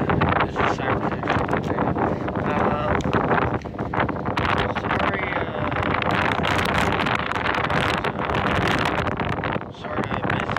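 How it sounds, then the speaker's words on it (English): Strong wind buffets a handheld microphone outdoors on a windy day, a steady roaring rumble with gusty swells that covers the whole stretch. "Sorry for the wind."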